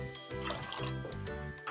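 Water trickles and splashes into a pot of moong dal for aamti, a close, gentle pouring with light clinks, while a voice hums or talks faintly underneath.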